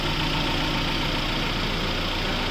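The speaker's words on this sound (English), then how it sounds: "so you can just check out the sound of the engine, how neat it is" The rebuilt engine of a 2009 Mahindra Gypsy, fitted with new pistons and rings, idles with a steady, even low rumble that stays constant and close throughout, with no talk.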